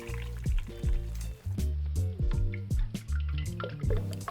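Lemon juice pours and drips into a glass up close, with a series of bright, rising gurgling tones as the glass fills.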